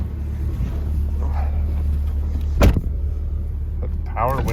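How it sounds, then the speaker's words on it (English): Power windows on a classic Chrysler car, heard as a short mechanical thump followed by a rising motor whine near the end, beneath a low steady cabin rumble, with a person talking. "Power windows still work."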